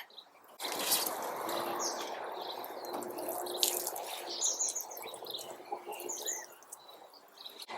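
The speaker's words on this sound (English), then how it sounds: "So now time to water." Water sprays and splashes steadily onto newly planted tomato plants in a backyard garden in Christchurch, a soft continuous hiss, while birds chirp and tweet in the background.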